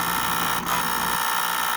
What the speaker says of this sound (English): that buzzer is mounted right there to make sure you hear it all the time